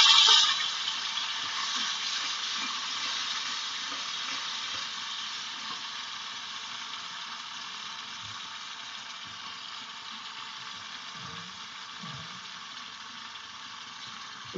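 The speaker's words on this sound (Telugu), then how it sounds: "ఈ టమాటా ప్యూరీ నేను వేసుకున్నాను" Tomato puree fries in hot oil in a pan while cooking a fish curry, a steady bright sizzle that is loudest at first and gradually eases, with occasional soft bubbling pops beneath.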